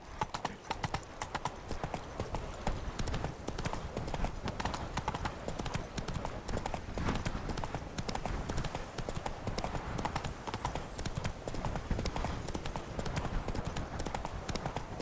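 Roach, a horse in The Witcher 3: Wild Hunt – Blood and Wine, gallops at a steady pace, its hoofbeats clip-clopping loud and close in a continuous rhythm with no break.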